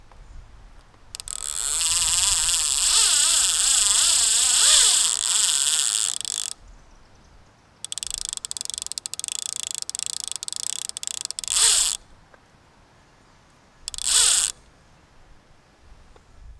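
An Abu Garcia Carp Master fishing reel's bait clicker ratchets loudly in long continuous bursts with a bright, buzzing tone, pausing between runs and ending with a brief final burst, heard close up with no talking.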